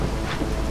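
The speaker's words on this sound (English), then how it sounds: "Now it's raining again." Steady rain and a low thunder rumble in a video game, a dense continuous wash of sound under a distant roll, short and without speech.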